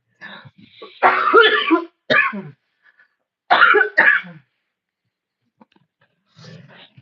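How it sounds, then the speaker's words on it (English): Several harsh, rough coughs come in short bursts with pauses between them, close and loud, followed by a faint final cough. "My 100-day cough is starting to act up for some strange reason."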